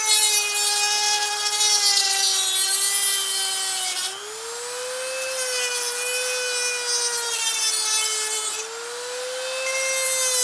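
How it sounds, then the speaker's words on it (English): A rotary tool whines steadily while cutting a 1/6 scale Dragon action figure part, loud and close, its pitch dipping briefly around four and eight seconds as the bit bites into the plastic. "Cut it."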